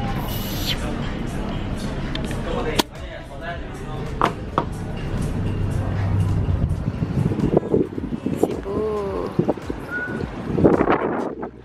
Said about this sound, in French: C'est dommage qu'il y ait autant de vent parce qu'il fait vraiment bon.